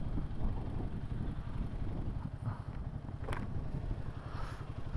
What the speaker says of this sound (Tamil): எப்போ செம்ம காற்றடிக்குது